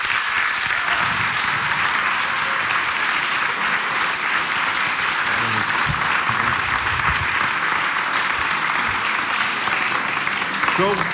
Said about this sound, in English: now we're going to do the real round of applause